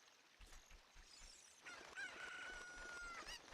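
A chicken crows in Legend of Zelda Ocarina of Time: a quiet, drawn-out, slightly wavering call lasting about a second and a half, rising out of soft game background sounds with a few short clucks nearby.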